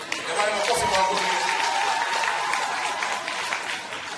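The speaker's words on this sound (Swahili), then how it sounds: "Jamani, makofi kwa Mungu." Steady applause from an audience at a Swahili-speaking religious gathering, clapped in praise of God; dense, even clapping fills the stretch, fading slightly toward the end with no talk over it.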